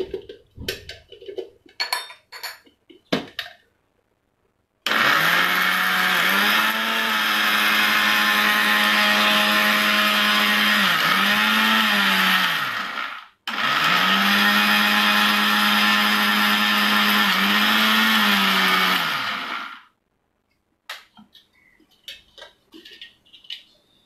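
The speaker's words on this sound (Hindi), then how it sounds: "थोड़ा सा और ग्राइंड करेंगे हम इसको।" A countertop blender grinds coconut dry chutney in two long, loud, steady bursts, with a short pause between them. Quieter kitchen clatter comes before and after the grinding.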